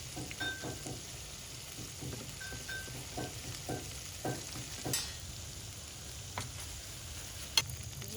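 Garlic chicken tenders sizzle and crackle steadily in hot oil in a pan, with soft scraping taps as pieces are flipped and a few sharper clinks of the utensil against the pan.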